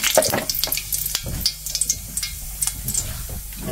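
Chopped onions frying in oil in a pan for beef bhuna, with a crackling sizzle broken by sharp scraping and clattering stirring strokes, close by, with no talking.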